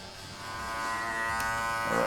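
Cordless hair clipper with the blade fully open, cutting a fade as a steady close electric buzz that swells slightly over about two seconds.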